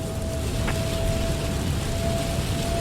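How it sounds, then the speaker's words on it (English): Heavy rain in the Microsoft Flight Simulator 2020 game, a steady, dense hiss of rainfall that stays loud and even throughout, with no voices. "A lot of rain."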